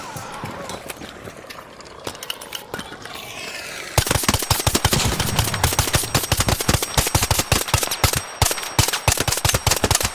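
Rapid gunfire in Arc Raiders, a dense burst of automatic shots that grows louder and more sustained about halfway through, with excited voices talking over it.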